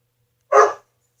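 One short, sharp dog bark rings out close by and loud, set against complete silence.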